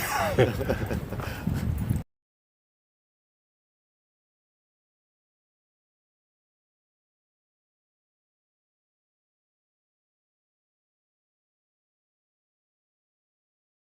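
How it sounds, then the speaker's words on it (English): Dogs whimper and yip on a hike near the top of Blood Mountain on the Appalachian Trail, a short close burst of high whines that stops abruptly into silence. "Hiking doggies."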